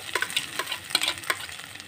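Boiled potato stirred and fried with ginger in oil, a soft background sizzle with a quick series of spatula scrapes and taps against the pan, close and moderately quiet.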